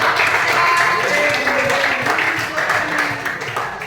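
Applause from a classroom of students for a group that has just presented, a steady dense patter of many hands clapping through the whole stretch, with voices chattering over it.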